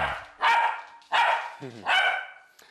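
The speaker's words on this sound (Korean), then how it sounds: "어제의 얌전한 모습은 어디로 가고 다시 짖고 있네요." Choco the dog barks in three loud, close bursts spaced about a second apart, each followed by a brief whining tail, with quiet gaps between them.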